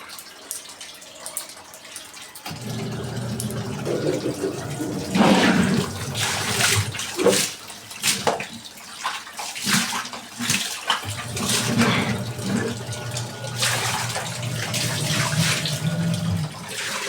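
Laundry being hand-washed with water on top of a washing machine: running and splashing water with sloshing and wet scrubbing, fairly loud and close, continuing for most of the stretch without speech.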